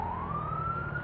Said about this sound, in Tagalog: kailangan natin tumabi dahil merong ambulansya